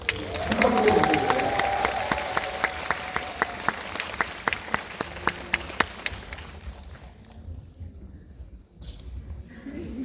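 An audience at a screening Q&A applauds as two film directors are welcomed on stage. Crowd clapping swells early, then settles into scattered, distinct claps before fading to near quiet.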